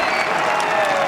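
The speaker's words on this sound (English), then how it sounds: "Worthy applause, because all the people up on that bank knew just how difficult that shot was" A golf gallery on a grassy bank at the 2018 Ryder Cup claps for Rory McIlroy's difficult chip shot, a short burst of dense, sustained applause from a large crowd.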